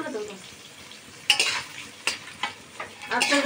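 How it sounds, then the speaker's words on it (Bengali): Panch phoron, dried chilies and bay leaves fry in hot oil with a light sizzle, while a utensil stirs them in several sharp scraping strokes against the pan. "শুকনো লঙ্কা আর পাঁচফোড়ন আর তেজপাতা দিয়ে দিয়ে নাড়ানো হচ্ছে"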